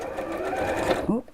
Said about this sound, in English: I'm going to open up the zip and just sew across the two end bits, just to hold those together